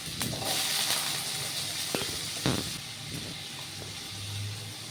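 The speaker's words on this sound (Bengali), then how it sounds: "আলুগুলোর মধ্যে একটু হলুদের গুঁড়ো আর একটু নুন গুঁড়ো দিয়ে একটু নেড়ে চেড়ে ভালো করে ভেজে নেব।" Potatoes frying in hot mustard oil in a wok, giving a steady, close sizzling hiss with a few brief clicks and stirring scrapes, no voices over it.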